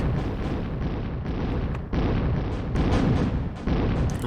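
Continuous artillery barrage in the Zero-K strategy game: dense, loud booming explosions rolling without pause, with a few sharper bursts.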